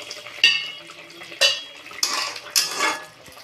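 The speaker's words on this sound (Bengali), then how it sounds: "তো বন্ধুরা ঢাকনাটা এবার খুলে দেখবো" Lid lifted off a cooking pot of dal and fish curry on the stove, giving four sharp metallic clanks spaced about a second apart, each ringing briefly, with no talk.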